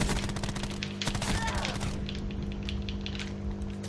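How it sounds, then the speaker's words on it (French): Burst fire from the Daemon 3XB gun in Black Ops 4, a quick cluster of sharp shots up front over steady game ambience, then fading into background noise. "quand je tire une seule fois, ça fait une petite rafale"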